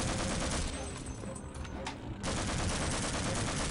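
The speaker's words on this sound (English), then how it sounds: "I'm just going to throw some grenades at it this time" Dense, continuous video-game combat noise with grenade explosions and rapid gunfire-like bursts fills the mix loudly, dipping briefly in the middle before surging back.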